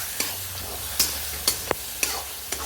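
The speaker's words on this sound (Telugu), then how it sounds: "ఇలా ఫ్రై అయ్యాక దీనిలో మనం ఇప్పుడు పేస్ట్ వేసుకుందాం. దీన్ని బాగా కలుపుకోండి." Onion and garlic paste frying in a pan, with spinach to come, for an Andhra-style dish: a spoon scrapes and stirs in regular strokes about every half second over a steady soft sizzle, close, with no talking.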